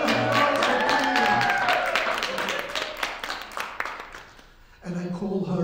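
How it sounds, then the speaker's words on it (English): An audience claps for a piccolo flute player of an Albanian Balkan ensemble, steady close applause for several seconds that dies away, followed by a voice speaking. "Please give a round of applause for India"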